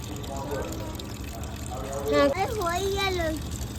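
Water runs steadily into a container being filled for watering plants, a continuous rushing wash under a woman's and others' voices talking over it.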